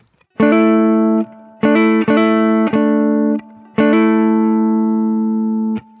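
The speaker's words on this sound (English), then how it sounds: "And now let's try to add a hammer-on here on the third string" A distorted Epiphone Sheraton II Pro electric guitar sounds a few ringing double stops, with quick hammer-ons on the third string between them and long sustains, loud and close with no talking.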